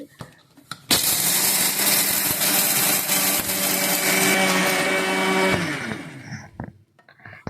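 A mixer grinder grinds roasted chana dal (putnala pappu) in a loud, close, whirring burst of about five seconds. The motor then winds down, with faint handling noises before and after.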